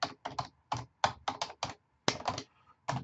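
Fingers type on a computer keyboard in quick irregular bursts of clicking keystrokes, close and clear, separated by short pauses, with no speech.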